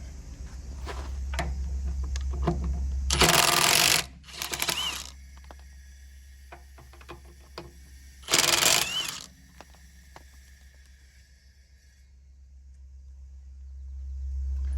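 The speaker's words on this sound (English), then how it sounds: "Next up is the Ridgid mid-torque impact." A Ridgid mid-torque impact wrench fires in three short, loud bursts close by, separated by pauses, over a steady low hum.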